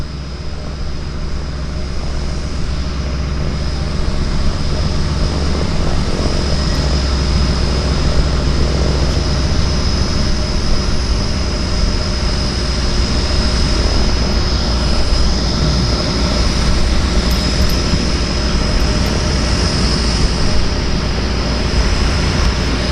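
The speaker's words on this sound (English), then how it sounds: "Beaver maneuvering itself in to the dock." A de Havilland Beaver floatplane taxis in to a dock in Vancouver Harbour, its propeller engine giving a steady, loud, droning hum with a constant whine throughout, heard alone without talk.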